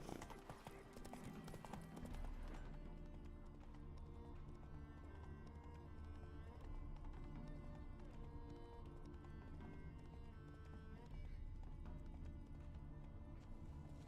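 Roach, a horse in The Witcher 3, gallops with a steady, rapid clip-clop of hooves that continues throughout, set against a dense, full game soundtrack and ambience.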